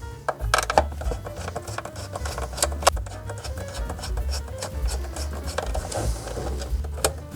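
Unscrewing the screws from a wooden case on a Sinclair ZX81, close-up, with irregular small creaks, scrapes and clicks that build over a low, steady background hum.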